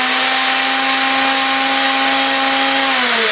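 A General International 4-inch benchtop bandsaw runs with a loud, steady mechanical whine and hum, holding an even pitch before slightly winding down near the end.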